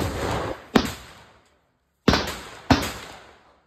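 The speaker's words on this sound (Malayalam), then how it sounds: "അമിട്ട് പൊട്ടുന്ന പോലെ കിടിലൻ പൊട്ടലാണ് ഇനി വരാൻ പോട്ട" Vishu firecrackers go off outdoors: three sharp, loud bangs, one early and two close together about two seconds later, each trailing off in a short echoing decay.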